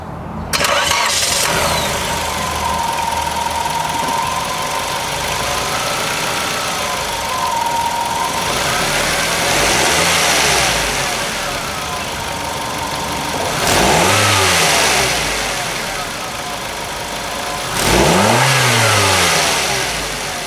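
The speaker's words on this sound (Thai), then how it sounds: "มาฟังเสียงเครื่องยนต์กัน" A Nissan NX Coupe 1.6L engine cranks and catches, settles into a steady idle, then is revved hard twice, each rev rising sharply and falling back, close and loud.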